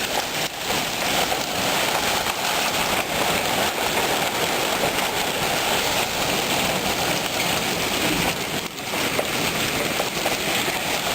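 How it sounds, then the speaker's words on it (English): During a severe thunderstorm, hail and wind beat steadily on trees and ground, a dense, continuous hiss and patter that stays loud and even, with brief gusty swells. "The hail's hitting them and then the wind's blowing them."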